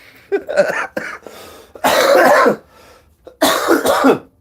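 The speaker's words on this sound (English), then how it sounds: "That's about every minute I was coughing like that for the last couple days." A person coughs hard in several rough bursts, short hacks first, then two long harsh coughing fits close to the microphone.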